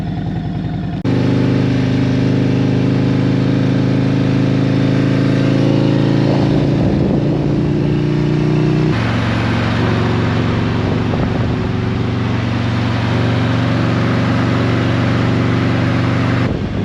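Harley-Davidson Road Glide ST motorcycle with new handlebars riding toward a freeway commute, its loud engine holding a steady droning tone, with a gear shift and pitch change midway, heard close throughout.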